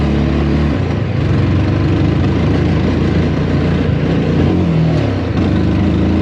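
A motorcycle engine pulls hard after a shift into second gear on an off-road run, a loud, close, steady drone whose pitch drops and then climbs again as it accelerates.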